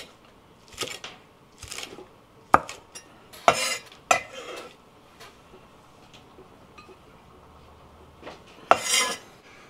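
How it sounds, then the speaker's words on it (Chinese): A knife cutting fresh coriander into short lengths, heard as scattered sharp strikes and light clatter at irregular intervals with quiet gaps between, close and fairly soft. "洗干净的香菜，咱们去掉根儿，然后切成小段儿"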